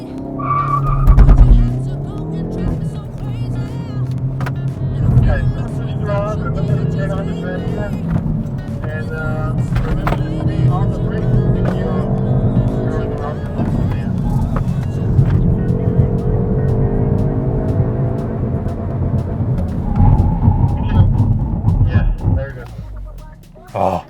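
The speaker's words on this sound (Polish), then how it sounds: "teraz mamy przejazd, a potem hamowanie awaryjne z pominięciem przeszkody." A fastback car drives a circuit run at the Nürburgring, then brakes hard in an emergency while steering around an obstacle. A loud engine drone and tyre squeal sound under a talking voice, with a surge of noise near the end.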